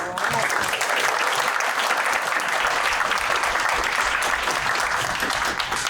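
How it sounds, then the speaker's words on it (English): Attendees at a special town meeting in Newfane break into applause, a dense, loud and sustained roar of many hands clapping together, steady throughout with some crowd noise mixed in. "That certainly deserves applause."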